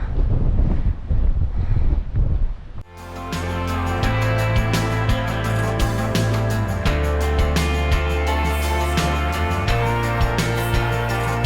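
Strong wind at McAfee Knob on the Appalachian Trail near Salem, Virginia, buffets the microphone with loud, gusty roaring for about three seconds. Music then abruptly takes over and masks the wind for the rest of the clip.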